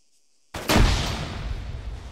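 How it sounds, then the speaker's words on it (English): A grenade bursts behind a building during MOUT training, one sharp loud blast after half a second of silence, followed by a long rumbling decay. "I'm gonna pop a nade behind the building here"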